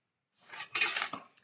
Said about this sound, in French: Ensuite, je prends ma paire de ciseaux